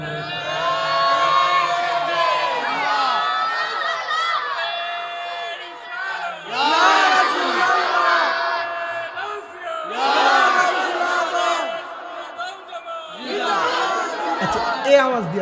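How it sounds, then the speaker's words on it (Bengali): A large crowd at a religious gathering loudly shouts the takbir in repeated waves, with several long, surging group cries separated by brief lulls. "জান্নাতে যাইতে চাই কারা কারা দুইটা হাত সোজা করে আমার আল্লাহরে দেখায় আর জবান না কইলা জোরে একটা তাকবীর হবে জোরে"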